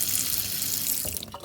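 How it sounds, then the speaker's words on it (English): Water runs steadily from a repaired two-handle kitchen faucet into the sink, a loud continuous rush that tapers slightly near the end, with no talk. "turn the water back on and test it out."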